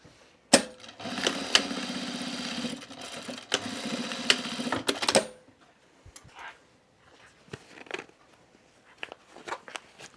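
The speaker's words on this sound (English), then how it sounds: "now I'm going to sew across the ends here" A sewing machine stitches across the ends of a zipper top on stiff canvas fabric. It runs steadily and loudly for about five seconds, then stops, followed by soft handling clicks and rustles.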